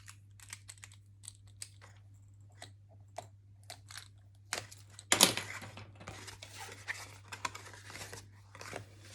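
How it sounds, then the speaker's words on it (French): Double-sided adhesive tape has its protective film peeled away in small clicks and crinkles, with a sharper tearing rip midway, close and quiet. "je vais simplement soulever les deux bandes, les deux pellicules qui protègent notre bande adhésif"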